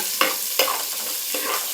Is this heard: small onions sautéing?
yes